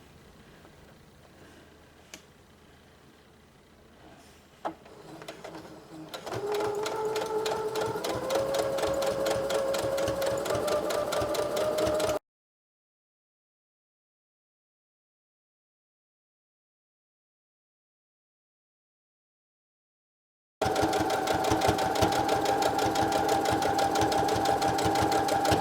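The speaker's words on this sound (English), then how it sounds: "I'm just going to straight stitch this all the way around." A sewing machine runs steadily, straight-stitching around a cloth pad: a fast, even mechanical chatter close by, starting after a few quiet seconds, dropping out to complete silence midway and resuming just as steadily.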